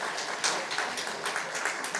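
Audience applause of encouragement at a university student faith retreat, a steady patter of many hands clapping at moderate volume for about two seconds.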